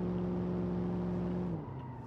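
Damaged Dodge Coronet 383 engine struggling in BeamNG.drive, a steady loud droning hum with a strong low harmonic that sags and drops in pitch near the end as the revs fall.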